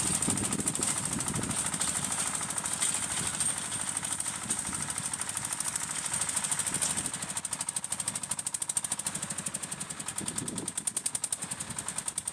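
A mini tractor drags a cultivator through hard, asphalt-like field soil, its small engine chugging steadily with a rapid knocking rhythm that stays close and continuous.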